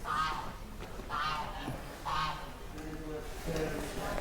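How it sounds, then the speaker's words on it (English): Goose honking in repeated calls at an open-air living museum school, several bursts at a steady spacing, moderately close, with background chatter beneath. "A goose."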